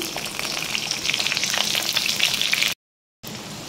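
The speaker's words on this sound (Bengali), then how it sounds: "তো আমি পেঁয়াজগুলো এর মধ্যে ঢেলে দেব।" Peeled onions dropped into hot oil for chili chicken fry with a loud, steady sizzle close by, briefly cutting to silence before the crackling frying resumes.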